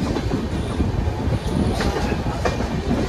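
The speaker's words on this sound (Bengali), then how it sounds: "বিশাখাপত্তনম থেকে ট্রেন ছেড়ে দিল।" A passenger train pulls out of Visakhapatnam station, with a steady, loud rumble of rolling rail cars and faint clickety-clack of wheels running throughout, and no talking.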